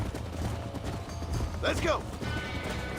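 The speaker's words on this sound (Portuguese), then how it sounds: "Aquele cavalo tá fugindo, os outros também." Horse hooves in the Western video game Red Dead Redemption clop in a steady rhythm amid game sounds and a brief creak, with a voice talking over them.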